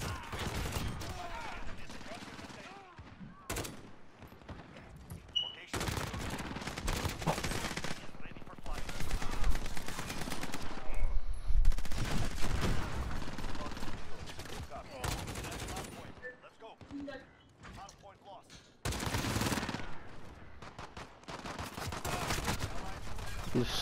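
Pistol and other gunfire crackle through a first-person shooter match in repeated bursts, loud and near, with occasional pauses and game noise between volleys, while players talk over the action.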